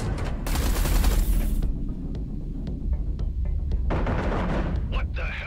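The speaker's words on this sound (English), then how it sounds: "Eduardo, concentrate artillery fire on Blakemore's carrier." Space combat in Everspace 2 with a dense rumbling barrage of artillery fire, a bright crackling burst early, then repeated booming impacts under a low throb, with a voice speaking over the din.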